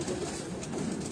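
A pigeon cooing softly in a brief low murmuring call, close by, with no talk over it.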